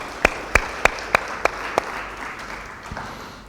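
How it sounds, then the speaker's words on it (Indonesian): A church congregation claps in a sharp, evenly spaced rhythm, six loud unison claps in quick succession, then a looser scatter of fainter claps as the room settles. "ya tepuk tangan buat Bapak Yahweh."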